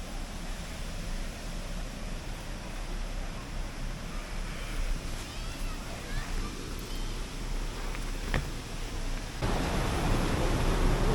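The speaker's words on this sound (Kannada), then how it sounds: "ನೋಡು ಒಳಗೆ ನದಿಗೆ ನೀರು ಬಿಟ್ಬಿಟ್ಟವ್ರು." Steady, loud rushing of river water fills the whole stretch, a continuous broadband roar with no pauses.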